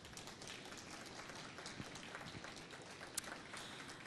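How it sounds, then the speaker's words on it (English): An audience at a climate presentation gives a round of applause for the presenters, a steady, fairly faint patter of many hands clapping throughout. "Maybe we could have a round of applause for our presenters."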